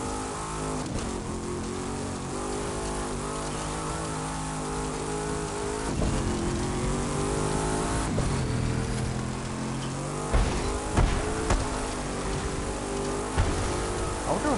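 Car engine in The Crew 2 video game during a drag race, revving loudly and continuously with rising and falling pitch through gear changes, plus a few sharp knocks toward the end.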